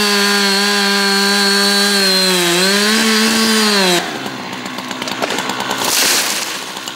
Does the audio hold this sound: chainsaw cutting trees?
yes